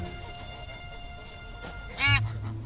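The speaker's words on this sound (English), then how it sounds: "Bar-headed geese are imported from Asia and sold as ornamental birds to decorate parks." Bar-headed geese, an ornamental Asian species, in a Paris park give a single loud honk near the end, preceded by faint background ambience with no other calls.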